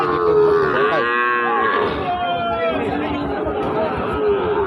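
Cattle moo in long, sliding, harmonic-rich calls at a busy cattle market, loud and close, with crowd chatter and talk running underneath.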